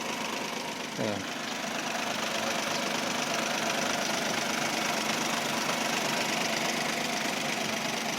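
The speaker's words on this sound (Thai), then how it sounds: "เสียงเคียงเงียบ ๆ ครับใช่งานได้ปกตินะครับ" A used car, model year 2013, idles quietly and steadily at a dealer lot in Thailand, a low continuous engine hum with a faint brief blip near the start and no talking.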